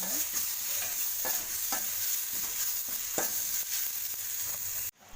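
Spices and turmeric fry in a pan, giving a steady sizzle with soft scraping strokes of stirring throughout, close and continuous until the sound cuts off abruptly near the end.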